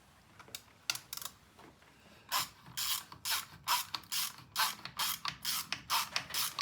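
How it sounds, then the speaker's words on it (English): A small 3/8-inch socket ratchet turns during an engine head assembly, giving quick close clicking bursts that start sparse and become a steady rapid rhythm of ratcheting strokes. "give me the small 3/8 socket ratchet"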